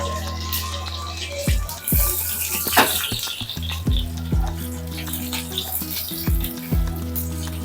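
Curry leaves hit hot oil in a pan for a tempering, giving a loud, continuous crackling sizzle with scattered pops and stirring clinks, close by and alone.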